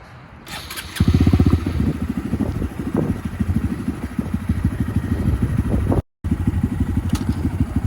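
A Honda Grom motorcycle engine fires up and runs with a steady, close, loud chugging idle and slight revving, broken by a brief cut before continuing.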